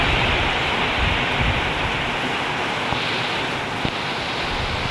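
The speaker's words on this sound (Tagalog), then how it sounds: "Grabe ang hangin, oh." Strong storm wind roars in a constant, rushing gust with rain on a corrugated metal roof, buffeting with a few faint knocks underneath, and no voices.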